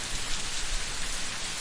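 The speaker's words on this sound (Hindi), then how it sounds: "ये आकाशी बिजली है। जब बादल आपस में टकराते हैं तो ऐसी आवाजें आती हैं।" Heavy rain pours in a steady, dense hiss for a cartoon storm scene, with a possible low thunder rumble beneath the downpour.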